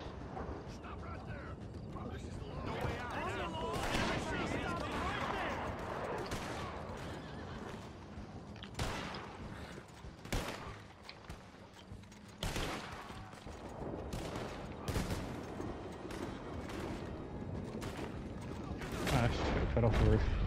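Gunfire from the Red Dead Redemption 2 video game cracks in scattered sharp shots and short volleys over a busy, clattering background, with voices shouting at times.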